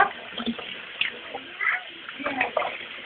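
Running water splashes steadily while a pet ferret is showered, with a voice talking over the flow.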